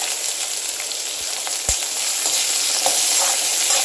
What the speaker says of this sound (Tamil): இது செவச்ச வறுக்கணும்.